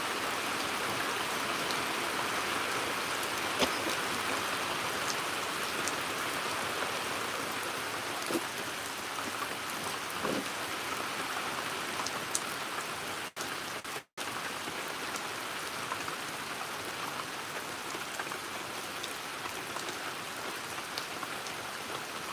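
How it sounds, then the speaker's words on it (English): Steady Hawaiian rain falling, a dense continuous patter of drops on surfaces with occasional louder individual splats and one brief dropout near the middle. "today's title is Hawaiian Rain and Fire ASMR."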